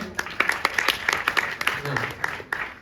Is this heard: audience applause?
yes